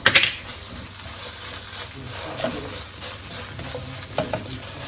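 Shredded cheese being stirred into a mixture in a bowl: a quick clatter of the utensil at the start, then soft, continuous scraping and stirring with a few light taps, moderately close.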